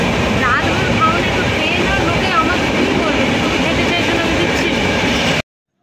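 A passenger train bound for Mumbai rumbles along in a loud, continuous roar with faint wheel clatter and brief squeals, heard from inside the carriage before cutting off abruptly.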